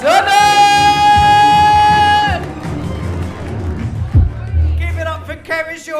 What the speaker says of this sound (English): Let's get the applause going.